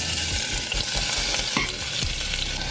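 Sliced red onions sweat in olive oil in a pan, a close, steady sizzle with a few soft stirring scrapes and clinks, loud and uninterrupted with no talking.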